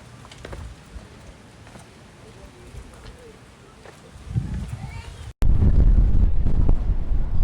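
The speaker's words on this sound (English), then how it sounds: "it's still bloody windy. It's blowing a damn gale" Strong gale on the North York Moors buffeting the microphone, starting as a low steady rumble before sharp gusts hit, then a sudden heavy blast roars loudly to the end.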